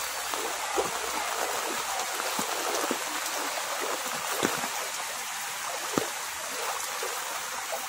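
Heavy typhoon rain during Typhoon Enteng in Burdeos, Quezon pours steadily with rushing floodwater from a swollen river, a continuous hiss broken by occasional louder drops and splashes, with no voices.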